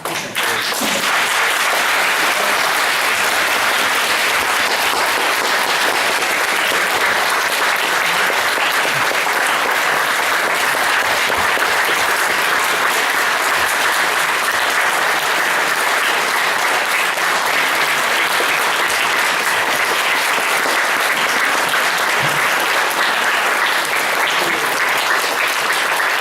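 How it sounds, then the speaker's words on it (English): A lecture audience at a holistic education talk gives the speakers a long final round of applause, a loud, dense, unbroken wall of clapping that holds steady for over twenty seconds. "let's have a final applause to our speakers"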